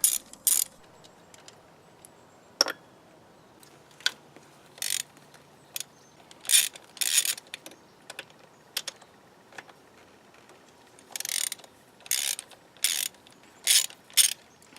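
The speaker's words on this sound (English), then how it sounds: "then we'll get the wrench out and we'll start removing all the stuff around it" A ratchet wrench removes parts from an engine in a series of short, sharp clicking bursts, some quick and repeated, others single, separated by quiet pauses.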